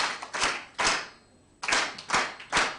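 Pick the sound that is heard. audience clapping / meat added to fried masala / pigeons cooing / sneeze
audience clapping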